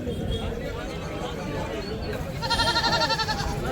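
Several goats bleat in wavering cries over a busy crowd murmur at a weekly goat market, one loud close bleat rising near the end.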